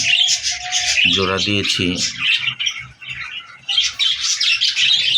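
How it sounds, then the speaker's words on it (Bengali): Caged doves, a Chuidal dove and an Australian brown dove, fill the space with dense, high chirps and calls that run steadily throughout, while someone speaks briefly in the middle. "এটা হলো চুইডাল ঘুঘু পাখি, আর ওটা হলো অস্ট্রেলিয়ান ব্রাউন ঘুঘু পাখি"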